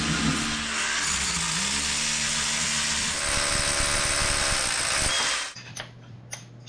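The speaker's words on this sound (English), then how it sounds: "So what I'm doing is drilling what we call the toilet seat" A power drill bores into rock inside a cave, a loud, steady grinding whine that shifts in pitch as it works, then stops and leaves a few faint knocks and clicks.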